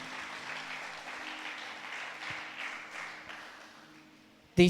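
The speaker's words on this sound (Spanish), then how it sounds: "¿Cuánto le dan un aplauso al Señor?" A church congregation applauds steadily at a Sunday service, a broad even wash of clapping with a faint sustained tone beneath, ending in a short loud knock.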